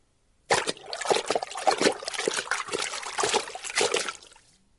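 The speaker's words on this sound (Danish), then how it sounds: "Mens de ligger og plasker rundt" Swimmers splash about in water at a holiday bathing spot, a dense, continuous run of sloshing and splattering that stays close and fairly loud throughout.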